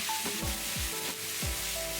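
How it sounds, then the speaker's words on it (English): Paneer with peppers, onions and tomatoes sizzles steadily in a karahi while being stirred, with several distinct scraping strokes of the utensil across the pan over a continuous close frying hiss; no talking. "Give it a stir."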